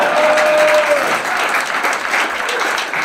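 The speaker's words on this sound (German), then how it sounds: "Das ist ein Applaus wert." Applause from an audience at a Basel Schnitzelbangg carnival performance, a dense, steady clapping that fills the whole stretch at close range, with a brief tonal whistle early on.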